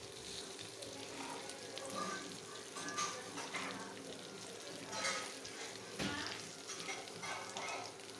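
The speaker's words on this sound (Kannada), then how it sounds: "ಫ್ರೈ ನೋಡ್ರಿ ಎಲ್ಲ ತಿರುವಿ ಹಾಕೋಕತ್ತೀವಿ ನೋಡ್ರಿ ಚಂದಾಗಿ." Fish pieces sizzling in plenty of hot oil in a pan, with soft scrapes and clatters as the pieces are turned one by one, a low steady crackle throughout.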